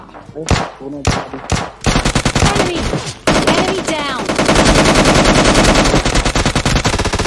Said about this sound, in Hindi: कौन है बे जो वेक्टर से इतना दूर मार रहा है